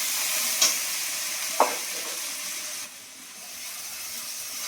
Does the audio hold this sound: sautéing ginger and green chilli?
yes